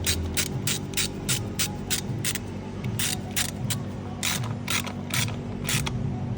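Steady ratcheting clicks in a fast run, from an 8mm fastener being tightened on a plastic part while an alternator is replaced on a Citroen Berlingo or Peugeot Partner van, close and clear over a low mechanical hum.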